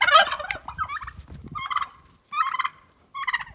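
A turkey gobbles repeatedly in snowy outdoor surroundings, a loud opening gobble followed by several shorter, rattling bursts separated by brief pauses, clear and close with no talking over it.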